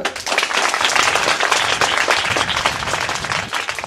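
Audience at a political speech breaking into loud, dense applause that holds steady for a few seconds, close and full, with no voices over it.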